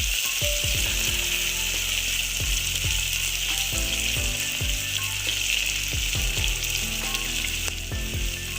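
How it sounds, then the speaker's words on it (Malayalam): Ghee sizzling steadily in a hot pan for ghee rice, a loud constant frying hiss broken by a few soft clinks and taps of a utensil against the pan. "നെയ്യ് അല്പം ആവശ്യമായിട്ട് ഒഴിച്ചു കൊടുക്കണം"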